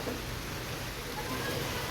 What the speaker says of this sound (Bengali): এখন এই সবে মাত্র বৃষ্টি শুরু হলো